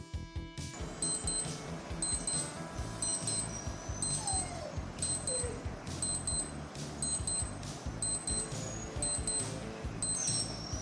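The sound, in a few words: alarm of a Skmei 2146 digital watch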